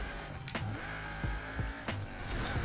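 A car in an Xbox racing video game slides through a drift, engine and tire noise rising and sweeping with a few sharp transient bursts, steady and close throughout.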